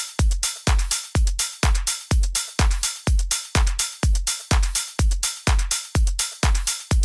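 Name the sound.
909-style hi-hat drum sample loop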